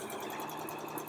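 Sewing machine stitching a fabric face mask's lining, a brief, close, steady mechanical whir with a fast even rhythm and no voices.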